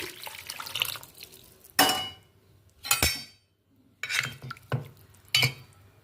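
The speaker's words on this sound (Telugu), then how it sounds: "ఇప్పుడు మనం దీనిలో చింతపండు పులుసు పోసుకోవాలి" Tamarind juice is poured into a cooking pot for a fish curry, a watery splash with a few clinks of metal against the pot, separated by quiet gaps.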